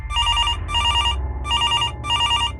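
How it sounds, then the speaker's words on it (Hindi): A telephone rings loud and close in four evenly spaced bursts of trilling bell tones with short gaps between, alone and without talking. "एक दिन जब काजल ने उस लड़के को कॉल करी"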